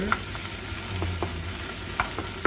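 Onions stir-fry in a pan until golden, a constant close sizzle punctuated by several sharp spatula scrapes and taps against the pan at irregular intervals.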